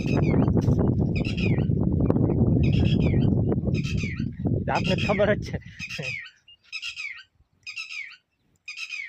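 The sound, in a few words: bird calling outdoors on a farm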